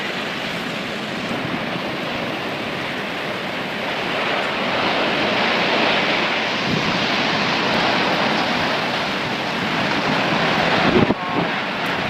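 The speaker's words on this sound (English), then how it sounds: "In May 2012, the Japanese city of Tsukuba was hit by a devastating tornado." Powerful roaring wind from a devastating tornado striking the Japanese city of Tsukuba, a dense continuous broadband rush that swells toward the middle and ends with a brief burst of rattling, with no voices.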